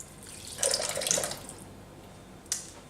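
Water, 200 g of it, poured into a Thermomix bowl, a soft splashing trickle lasting under a second, followed by a brief faint splash.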